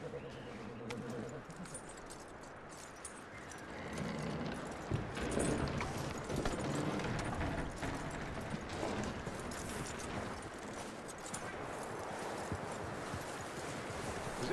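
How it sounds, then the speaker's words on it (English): Hooves clip-clop steadily from a horse in the Red Dead Redemption 2 video game, a fairly quiet rhythmic clatter mixed with jingling tack and ambient noise, with brief talk early on. "That looks like a decent horse."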